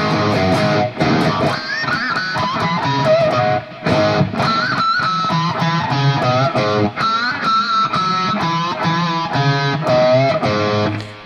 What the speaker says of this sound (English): And now with the distortion all the way up.